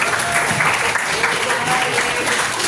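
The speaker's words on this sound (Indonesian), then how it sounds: "Tepuk tangan sekali lagi." Audience applause at a school gathering, a brief dense burst of clapping from a crowd, moderately loud and continuous with no voices over it.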